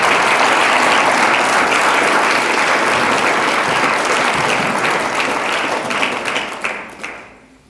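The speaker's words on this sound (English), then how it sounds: "Can we have another round of applause for all of those friends at the University College?" Loud, sustained audience applause fills an awards ceremony hall, a dense wash of many hands clapping that thins and fades out in the final second.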